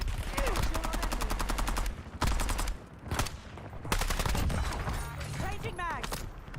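Rapid bursts of automatic gunfire in the Warzone video game, several loud close volleys broken by short pauses, with game voice callouts mixed in.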